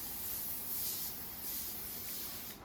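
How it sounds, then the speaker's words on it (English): Non-stick cooking oil sprays onto a pan in a steady close hiss that lasts a few seconds and stops abruptly. "So we're going to spray a pan,"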